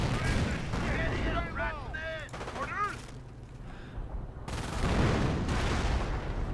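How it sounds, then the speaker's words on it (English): Artillery barrage and gunfire in the Company of Heroes World War II strategy game, Cherbourg mission, a continuous rumbling roar of fire and blasts with bursts of speech layered over it throughout. "This artillery barrage might do it."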